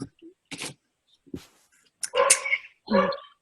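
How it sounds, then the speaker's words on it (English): A pet dog at home barks and whimpers in a few short, separate bursts, close by and fairly loud, with quiet gaps between the yelps. "That's my dog."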